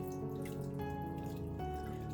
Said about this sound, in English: Now I'm just going to add the water back that I took